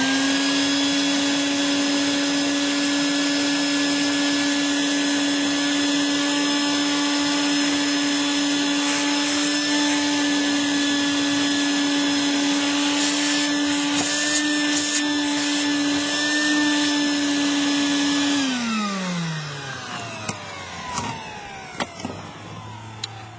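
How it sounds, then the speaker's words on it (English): A vacuum cleaner runs with a steady high whine during a fuel pump replacement on a Nissan Maxima, close and loud for most of the stretch before the motor winds down and stops, followed by a few light clicks. "now we're just going to vacuum it again."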